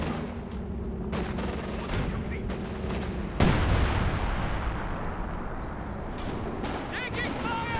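Dense battle din from Company of Heroes 2 with an MG-42 bunker in play: continuous crackling gunfire and distant booms, a heavy impact burst midway, then sustained firing and brief game voice callouts near the end.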